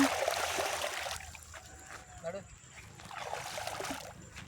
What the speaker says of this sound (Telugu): ఇక్కడ వాటర్ ఫ్లో అయితే ఎంత స్పీడ్ వస్తుంది చూడండి గాయస్